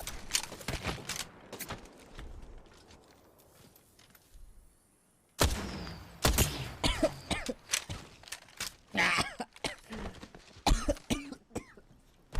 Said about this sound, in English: Dry coughing.